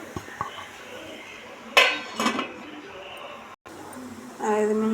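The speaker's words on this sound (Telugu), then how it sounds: "మూత పెట్టేసి ఒక 5 నిమిషాలు సిమ్లో ఉడికిద్దాం" A metal lid clatters onto a cooking pot while carrot cobbari laddu mixture simmers, giving a sharp clinking burst followed by a couple of smaller rattles, close and fairly loud, with a voice speaking around it.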